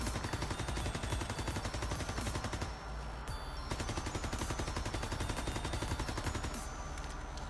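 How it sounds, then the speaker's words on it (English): MP40 submachine gun in Call of Duty WW2, fitted with a grip, fires in long continuous automatic bursts, loud and close, with a rapid, steady rattle and one brief break midway. "let me show you what the recoil looks like with grip."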